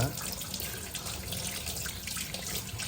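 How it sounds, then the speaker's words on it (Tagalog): Tap water runs steadily from a kitchen faucet while fresh ingredients such as chili peppers and tomato are washed in a sink, a continuous close hiss and splash with no talking. "Hugasan natin yung mga sangkap."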